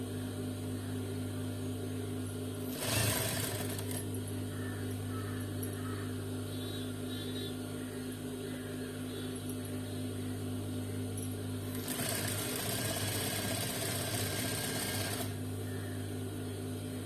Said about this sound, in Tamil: அந்த 1/2 இன்ச் ஃபோல்டிங் இந்த ஸ்டிச்சஸ்க்கு மேல வச்சு இதோட எட்ஜில் வந்து ஸ்டிச் பண்ணி எடுக்க போறோம்